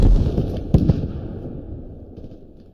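Gunfire and explosions from the war simulator game Squad crackle and pop in quick sharp bursts over a rumbling background, then fade out.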